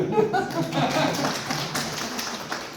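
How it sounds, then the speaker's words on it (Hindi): Classroom students clap for their teacher in a short burst of scattered hand claps, with a voice speaking over the start before the clapping thins out. "सर के लिए एक ताली बजाओ"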